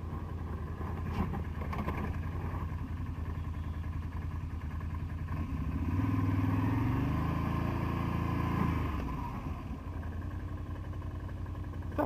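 A quad bike engine runs steadily throughout, swelling louder for a few seconds midway before settling back to a constant idle-like drone, with no talk.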